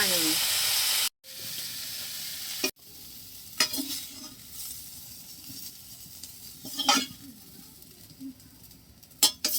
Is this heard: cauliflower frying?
yes